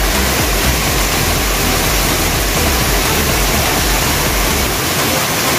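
Tinuyuan Falls in Abaca, Cauayan, a waterfall heard as a steady, loud, close roar of crashing water that holds evenly throughout with no voices.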